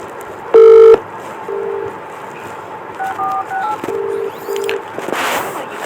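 A phone dials a call, with one loud tone burst followed by a run of shorter keypad beeps, close and clear over a quiet background.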